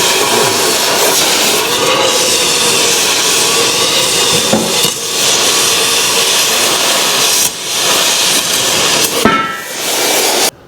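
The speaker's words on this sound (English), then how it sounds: "That's why I tried tackling it with the Sawzall first" A Sawzall reciprocating saw cuts through heavy-walled box iron, giving a loud, steady, harsh metallic rasp that runs almost the whole time, with a few brief dips in the cutting.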